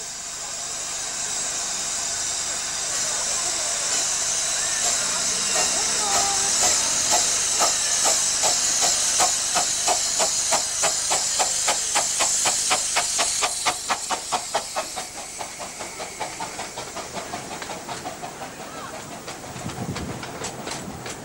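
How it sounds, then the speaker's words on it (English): Steam locomotive of the Romney, Hythe & Dymchurch Railway pulling away, loud hissing steam giving way to a steady chuffing beat and rail clatter that gradually eases off. "But now it's time to rejoin our train and continue our journey to Dungeness."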